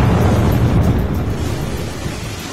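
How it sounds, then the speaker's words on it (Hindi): A deep, heavy rumbling roar of an underwater explosion, loud and sustained, slowly fading over a couple of seconds with no voices. "पानी में अचानक जोरदार धमाका होता नजर आया।"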